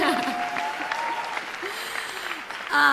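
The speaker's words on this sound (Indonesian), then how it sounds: "Tepuk tangan bagi Tuhan." Congregation clapping during an online church service, steady applause filling the whole stretch with some voices and a sustained tone mixed in, loud and close throughout.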